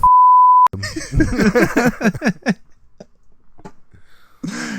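A single loud, steady electronic censor beep tone opens, cut off abruptly as a voice starts talking; another burst of speech follows a quiet pause.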